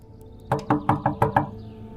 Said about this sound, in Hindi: अम्मार क्या हो गया? दरवाजा तो खोलो।